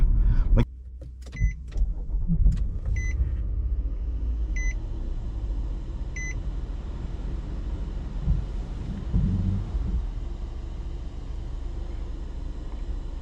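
A 2023 Nissan Murano Platinum's engine rumbles steadily for the whole stretch, low and continuous, with a few sharp electronic beeps and clicks near the start.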